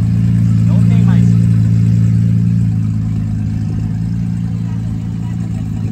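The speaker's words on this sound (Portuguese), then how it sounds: "Tá acelerando o GTR aí." Nissan GT-R engine in a racing video game, a loud, steady low drone that swells briefly as it revs then holds, with a voice talking over it.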